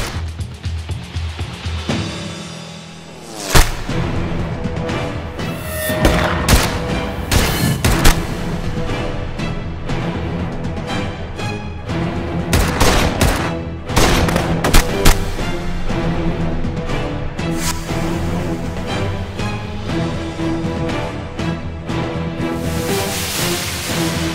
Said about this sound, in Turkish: Bak duyuyor musun? Keşanlı'nın silahı bu.